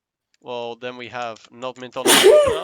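A single loud, close sneeze bursts out at the end, right after a stretch of nearby speech.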